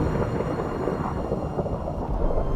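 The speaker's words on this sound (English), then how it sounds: "Look at the rain." Steady rain hiss with low rumbling thunder from a thunderstorm in Minecraft, continuous and fairly loud throughout with no talking.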